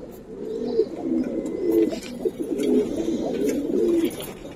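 Giribaz pigeons cooing close by, a run of repeated soft throaty coos in an uneven rhythm with slight background noise.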